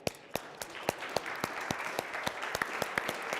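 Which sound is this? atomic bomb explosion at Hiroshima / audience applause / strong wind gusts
audience applause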